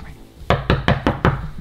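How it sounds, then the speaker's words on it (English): Five quick, loud knocks on a door in a steady rhythm, close by, after a moment of quiet room noise. "I'm gonna knock on the door"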